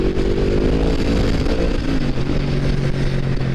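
A Yamaha MT-10 motorcycle engine revs hard toward its red line, a loud, continuous mechanical roar with the pitch climbing and holding steady across the whole stretch.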